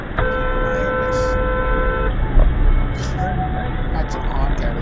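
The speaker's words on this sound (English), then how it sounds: "Had to honk at his butt, man." A car horn honks in a steady blast of about two seconds on a busy California road, with traffic rumble continuing after it.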